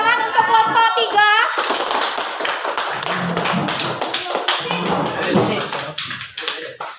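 Applause for a presenting group at a university teacher-training session in Aceh, a burst of claps breaking out after brief speech and continuing steadily, fading toward the end.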